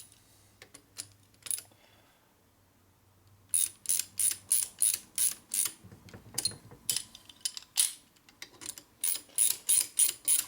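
A ratchet fitted with a long extension tightens the nuts on a 2001 Indian Scout 88ci S&S big-bore motor during an overhaul, giving close, quick bursts of clicking in an irregular rhythm after a brief quiet stretch, with no talking.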